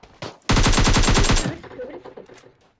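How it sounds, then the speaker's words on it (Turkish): Rapid burst of about a dozen pistol shots in PUBG Mobile, loud and close, fired in quick succession over roughly one second, followed by quieter game ambience and faint movement sounds. "Tabanca mı sıkıyor?"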